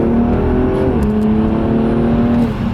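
A BMW M235 accelerates hard, its engine note loud, close and continuous, with a steady rising drone and no other sounds over it.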